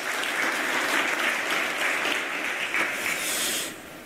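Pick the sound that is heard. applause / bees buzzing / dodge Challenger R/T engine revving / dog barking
applause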